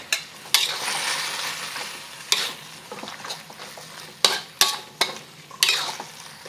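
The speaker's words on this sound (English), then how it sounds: "Adding our beef back in along with all the juices." Beef and its juices go back into a pan of simmering sauce thickened with cornstarch slurry, giving a steady close sizzle broken by several sharp scrapes and clinks of a utensil stirring against the pan.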